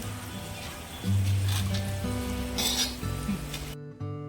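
Asafoetida and turmeric sizzle in hot oil for masala bhindi, a steady frying hiss with a soft low hum throughout, close and moderately loud, cutting off near the end.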